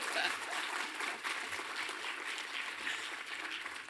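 Audience applause fills an evening talk event in a university cinema in Vancouver, steady dense clapping throughout at a moderate level, with no voices over it.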